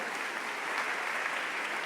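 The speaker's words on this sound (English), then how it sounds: "Gwen Marcus, would you stand up so we can give you applause?" Applause from a congregation at a Pride Shabbat gathering, a brief even patter of many hands, moderately soft and continuous.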